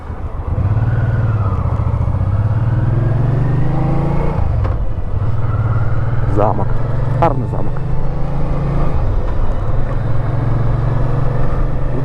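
A touring motorcycle idles and then pulls out onto a highway near Dubno, its steady low engine drone rising with a couple of brief revs while a rider talks over it.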